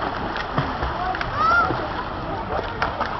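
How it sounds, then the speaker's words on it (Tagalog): A child splashes while swimming, making moderate, repeated water splashes and sloshing nearby, with people talking over the water. "Nag-invento ka na ng langoy mo, Michael, ha?"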